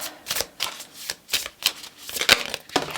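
A deck of oracle cards being shuffled by hand during a tarot-style reading, giving repeated crisp riffling bursts in an uneven rhythm, close and fairly loud, with no talking.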